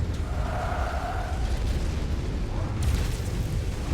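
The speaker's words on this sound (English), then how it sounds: "Explosion imminent." An explosion in the Mechwarrior 5 video game, a deep, rumbling blast that rolls on under steady mechanical noise, with a sharper burst near the end, loud and close.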